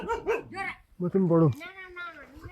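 A dog in a village near a cattle shed gives a few close, yelping barks and whines that trail into a drawn-out whimper, with a voice mixed in.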